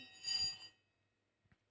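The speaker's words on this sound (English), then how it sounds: "We're about to ring the bell." A stock market opening bell rings out loud and sustained for about half a second, then fades into quiet, followed by a few faint knocks near the end.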